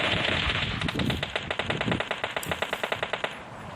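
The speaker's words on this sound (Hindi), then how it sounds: "मतलब बहुत फायरिंग होती है" Rapid automatic gunfire in a battle royale video game, a dense burst of sharp repeated shots in an even rhythm, loud and close, with no voices.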